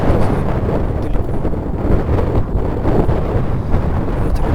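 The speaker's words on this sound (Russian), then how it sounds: "Ветер опять подул." Steady wind rumbling and buffeting outdoors at the mouth of the Kazanka river, a continuous low roar with gusty fluctuations and no voices.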